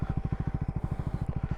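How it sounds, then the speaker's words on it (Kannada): A Triumph Scrambler 400X single-cylinder motorcycle idles close by, its exhaust pulsing in a steady, even thump of rapid beats throughout. "ಎಕ್ಸಾಸ್ಟ್ ಸೌಂಡ್ ನೋಡಿ ಹೆಂಗಿದೆ."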